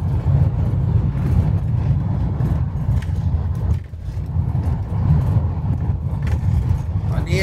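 A McLouis Mc4 873 motorhome engine accelerates as a steady low rumble heard from inside the cab, with a continuous road drone and a brief dip midway, under someone talking.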